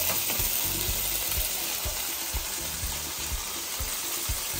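Food frying in hot cooking oil, a steady, dense sizzle throughout with soft stirring knocks and clatters underneath, close and continuous without any talking.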